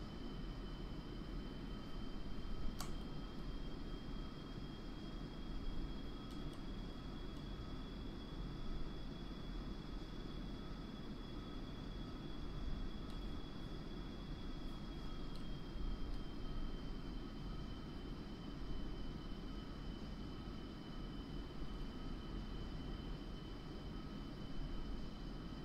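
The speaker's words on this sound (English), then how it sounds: "The last of the transport aircraft is departing" Transport aircraft departing in the flight game DCS World: a steady, continuous engine drone with a sustained whine, holding at an even loudness throughout with no voices.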